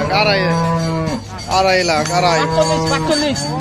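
A large sacrificial cow at a busy Bangladesh cattle market before Eid al-Adha lets out long, loud moos in several drawn-out calls, with crowd chatter and voices around it.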